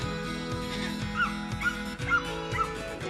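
A farm dog near a goat pen with a hay feeder whines and yips in repeated short, high, wavering cries. The cries sit over a steady, fairly loud background.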